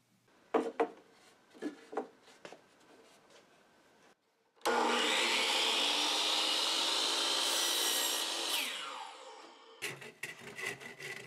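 A saw cuts a wooden sword shape from a board, first a few light taps and strokes, then one long loud continuous cutting run that tapers off, followed by more short knocks.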